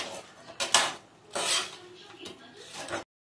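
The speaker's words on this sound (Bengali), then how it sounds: "এই চিংড়ি মাছগুলো দিয়ে দিতে হবে। দিয়ে নাড়াচাড়া করে" Double-coated fried prawns being tossed and stirred in a pan for honey prawns: a few short metallic scrapes and clatters of a utensil against the pan, fairly quiet and close, with brief gaps between strokes.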